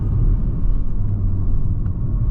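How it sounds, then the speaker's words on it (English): A Porsche 718 Cayman GTS 4.0 with a six-cylinder engine gives off a deep, steady rumble that holds at a fairly loud, constant level throughout, with no voices over it. "And the sound of a 6-cylinder car,"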